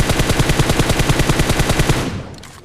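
Automatic gunfire in a battle royale video game, a loud rapid burst of steady, evenly spaced shots with bullets striking a wall. The burst cuts off and fades into a short echoing tail.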